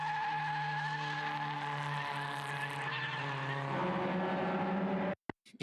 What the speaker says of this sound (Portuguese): Este som dos pneus chiarem, a criar aqui este som estridente.